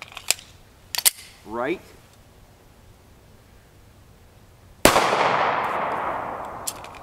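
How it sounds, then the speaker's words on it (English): A single loud 9mm pistol shot firing Norma 108gr monolithic hollow point ammunition cracks outdoors and rings out with a long decaying echo, following brief talk and a few small clicks. "We'll take another shot just in case."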